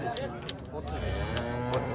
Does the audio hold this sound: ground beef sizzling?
no